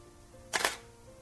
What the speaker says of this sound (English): I reach forward, I touch the camera, I press the shutter button,